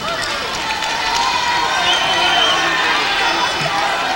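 A dense crowd roars and cheers at an NCAA Division I women's volleyball regional final between Pacific and Florida, a loud, continuous arena wash with voices mixed in.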